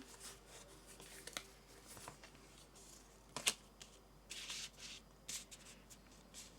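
Tarot cards being shuffled and laid out on a table, with soft riffling, flicks and light taps close up in a quiet room, including one sharper snap midway.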